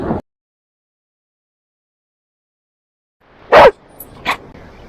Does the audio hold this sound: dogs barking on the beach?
yes